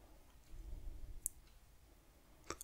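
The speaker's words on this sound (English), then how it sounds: "click on stop, click on yes" Two sharp computer mouse clicks on a Windows 10 laptop, spaced about a second apart, faint and close against a quiet background hiss.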